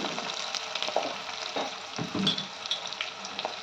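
Onions frying in a pan for a vegetable biryani, browning in hot oil: a steady close sizzle with scattered crackles and a few soft stirring scrapes, no voices.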